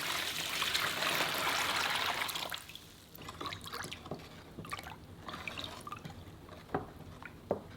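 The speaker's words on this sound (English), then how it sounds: "Pour in the water and whisk until dissolved." Water pours steadily for a few seconds onto Korean coarse sea salt, then gives way to irregular drips, light splashes and soft clinks of whisking in a bowl.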